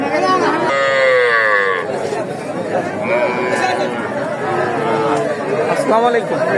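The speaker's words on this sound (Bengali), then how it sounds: "এখানে ভালো মানের গরুগুলো ক্রয় বিক্রয় করা" Cattle, including bulls, at a busy livestock market in Dakumara, Bogura, low out in several long, loud moos, near and farther off, over a steady babble of people talking.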